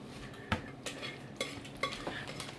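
A scraper scrapes and stirs inside a pot of boiling goulash, giving several quiet, irregular scraping and clinking strokes over a low background simmer.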